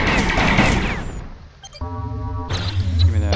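Rapid bursts of gunfire and impacts from the video game Droid Assault, loud and dense, briefly dropping to a quieter tonal hum before the clatter resumes.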